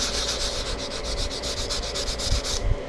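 A model rocket part for the Estes Mean Machine is sanded and polished by hand, a close, loud, steady rhythmic rubbing of about a dozen quick back-and-forth strokes that stops abruptly near the end.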